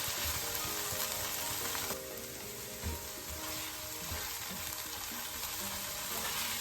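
Fenugreek (methi) leaves roasting over a medium flame in a pan while being stirred, giving a steady close sizzle and soft frying crackle with occasional scraping knocks, no voices.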